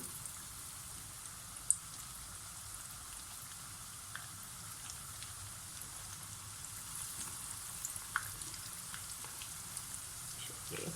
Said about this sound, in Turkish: nuggetlarımı koyuyorum. Altını üstünü güzelce kızarıncaya kadar pişireceğim.